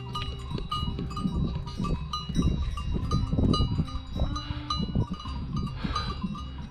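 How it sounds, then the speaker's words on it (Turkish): Sheep graze on an alpine mountain pasture near the Zugspitze in Germany, bleating and bells clanking in an irregular busy jumble, fairly close, with no one talking. "Burada koyunlar"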